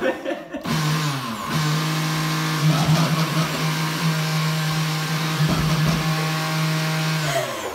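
A kitchen blender mixes a pumpkin spice latte, running as a loud, steady motor drone for several seconds after a brief start, its pitch holding nearly constant with slight wavering.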